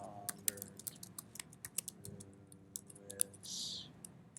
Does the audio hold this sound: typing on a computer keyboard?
yes